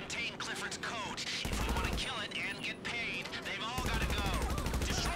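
Rapid gunfire in Grand Theft Auto Online during a Criminal Mastermind heist, with bursts of shots and whooshing effects running throughout, mixed with game sounds and a voice talking over it.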